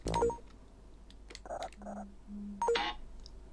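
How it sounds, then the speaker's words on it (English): A mobile phone sounds a short run of electronic notification beeps and tones, faint and spaced apart against a quiet background. "That's my phone."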